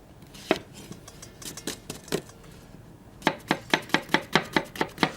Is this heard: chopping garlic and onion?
yes